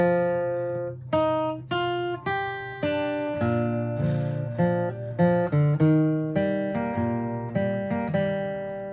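Plucked guitar notes and chord hits in a rhythmic riff, alternating low root tones and fifths, each attack ringing briefly before the next.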